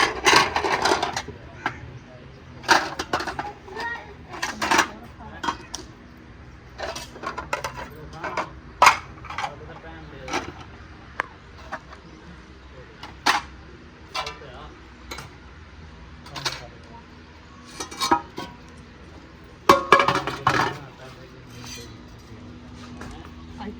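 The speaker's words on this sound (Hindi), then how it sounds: "अभी ये बर्तन वगैरह उठाते हैं।" Dishes and kitchen utensils are picked up and set down in a home kitchen before a meal, giving scattered sharp clinks and clatters, some loud and close, under intermittent conversation.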